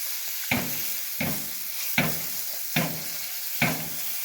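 Bangude mackerel coated in masala frying in oil in a pan: a low constant sizzle punctuated by five evenly spaced bursts of crackle and scraping, each fading quickly, close and without voices.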